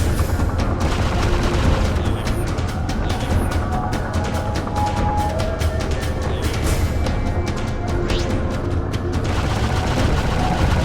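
Continuous rapid weapon fire from a turret in the space game Freelancer, a dense loud barrage of booms and crackling shots filling the whole stretch without pause.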